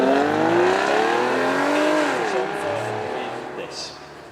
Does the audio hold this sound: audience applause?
no